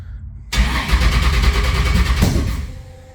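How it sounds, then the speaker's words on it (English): A small engine cranks and catches abruptly after a brief quiet stretch, then runs roughly with its ignition timing 360 degrees out, and a sharp pop from a backfire sounds near the end before it dies away. "see that backfire?"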